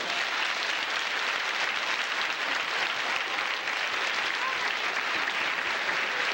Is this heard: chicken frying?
no